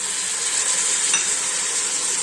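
Mixed vegetables and green peas are stirred in a hot pan for Malvani-style masale bhat, with a constant close sizzle and a faint scrape of the spoon.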